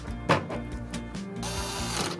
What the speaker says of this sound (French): Peut-être que ça fait peur à beaucoup de gens de voir une perceuse être utilisée pour monter un PC